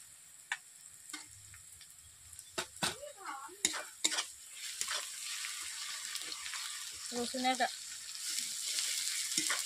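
Ginger paste frying with garlic in a pan, a steady sizzle broken by sharp scraping and stirring clatters of a utensil against the pan. The stirring comes close and moderately loud, and a few faint voice-like sounds surface midway.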